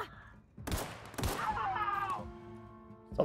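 A couple of sharp gunshot bursts in The Outer Worlds during a firefight near an enemy camp, fairly quiet, followed by a fading whooshing, ringing tail.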